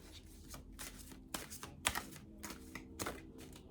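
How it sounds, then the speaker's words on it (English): Outcome cards are shuffled for a reading, giving soft, quick riffling and tapping sounds at close range in short irregular bursts, quiet and without talk. "So I'm just going to choose some outcome cards."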